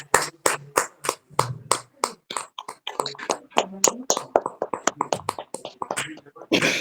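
A women's fellowship prayer congregation claps loudly in praise, crisp close hand claps in a quick, slightly uneven rhythm that speeds up, with a few voices briefly mixed in.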